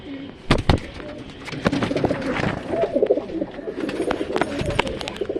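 Pigeons cooing in a loft, soft throaty calls mixed with sharp wing claps and flutters close by, over a busy background of bird sounds.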